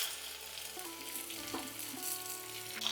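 Okra frying in hot coconut oil with mustard seeds and a red chilli, a steady close sizzle with faint crackles and light stirring throughout, no voices.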